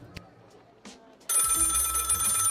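A telephone rings in a video game, a loud electronic bell trill that starts abruptly and continues steadily after a few quieter clicks and scattered game sounds, with voices briefly audible beforehand.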